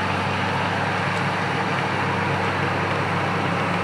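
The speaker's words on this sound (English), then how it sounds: "I'm going to roll down the window so you can kind of hear how loud my exhaust is." Steady low rumble of an idling truck's loud exhaust, heard through an open window, constant and fairly loud, with no speech.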